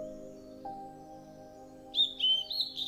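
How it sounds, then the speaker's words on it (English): A bird crying out in a series of sharp, bright chirps that rise over a faint, sustained tonal hum, starting about two seconds in and repeating in quick bursts. "A bird's cry for help."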